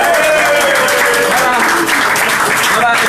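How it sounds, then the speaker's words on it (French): Loud crowd applause at a political meeting of the MRC party in Douala, Cameroon, with dense, sustained clapping throughout and voices and shouts running underneath. "Est-ce qu'on peut applaudir pour tous les tantinats?"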